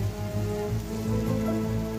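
Steady rain pattering on a surface in the animated show Thomas and Friends, a continuous dense hiss with a low rumble underneath, no voices.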